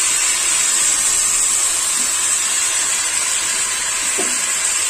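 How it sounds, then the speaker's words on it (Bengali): Spices frying with a little water added hiss and sizzle in a steady, bright wash of sound, close by and without talk. "অল্প জল দিয়ে কষছি"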